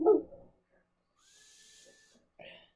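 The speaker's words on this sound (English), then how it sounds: "I see you have a dog." A German Shepherd whimpers indoors, a faint thin whine drawn out for about a second, followed by a short soft yelp, after a brief burst of low noise at the start.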